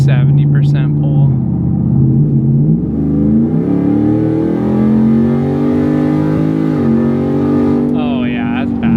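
A 705-horsepower Ford F-150 pickup accelerates at about 70% throttle, its loud engine note climbing in pitch with shifts along the way and a rising whine near the end.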